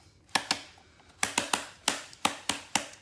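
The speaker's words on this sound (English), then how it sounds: "And you're gonna hear some clicking." Sharp plastic clicks from a Ryobi string trimmer bump head as trimmer line is wound into it by hand, coming in quick irregular pairs and singles, close and crisp with quiet gaps between.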